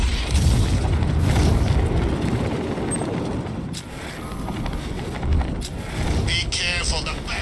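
Heavy cannon-like booms and rumbling blasts from a car-mounted cannon in the video game Batman: Arkham Knight fire repeatedly over loud, continuous action noise, with a voice now and then.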